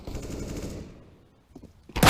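Rapid Tec-9 pistol fire from Counter-Strike: GO on the Inferno map, a dense burst of shots at the start that fades into near silence, followed by a few faint clicks and then a loud new burst at the end.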